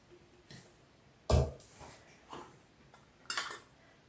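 A few separate clinks and knocks of metal lids set onto glass jars of pickled beetroot, one sharp and loud, others softer, in a quiet kitchen.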